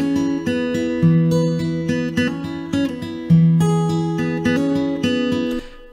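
Plucked guitar notes and chords played through a free reverb plugin on a bus, with an EQ low cut and high pass placed before the reverb. Each note rings out with a clear tail, the playing is clean and steady, and no one speaks.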